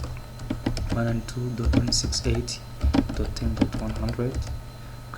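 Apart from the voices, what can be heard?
typing a ping command on a computer keyboard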